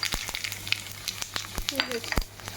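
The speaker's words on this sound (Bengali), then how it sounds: "তেলের মধ্যে আমি এখন জিরা তেজপাতা শুকনো লঙ্কা দিয়ে দিচ্ছি" Cumin seeds, bay leaf and dried red chillies crackle in hot oil in a kadai, a close lively sizzle with sharp sputtering pops and brief clinks, a voice faintly present.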